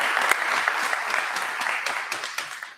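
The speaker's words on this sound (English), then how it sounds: "Let's give a round of applause again." Audience at a church's annual parish meeting applauds, a steady wash of many hands clapping at even loudness throughout, with no voices over it.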